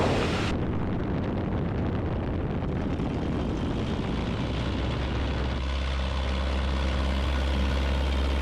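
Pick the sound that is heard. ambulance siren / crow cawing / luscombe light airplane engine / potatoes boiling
luscombe light airplane engine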